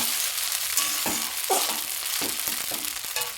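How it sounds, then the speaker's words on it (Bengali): Chowmein sizzles and crackles in a hot pan while being tossed and mixed, a constant close hiss broken by several scraping spatula strokes. "আর চচ্চর আওয়াজ একটা বুঝতেই পারছো মানে অনেকক্ষণ ধরে মেশাচ্ছি"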